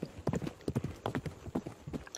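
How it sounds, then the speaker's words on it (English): A horse's hooves clip-clop at a steady walking rhythm, close and fairly quiet, with several distinct strikes repeating across a couple of seconds. "Nah, I'm talking about my horse here."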